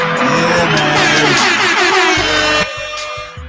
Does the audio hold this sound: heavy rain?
no